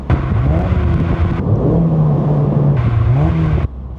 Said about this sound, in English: Are you gonna go your entire life never learning to rev match?